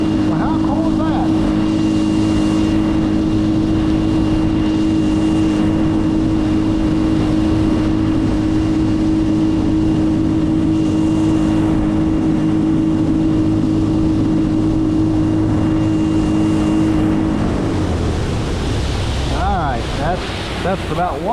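A Tracker Panfish 17 boat runs at full throttle on a lake, its outboard motor a loud, steady drone with wind and water rush, the engine easing off near the end.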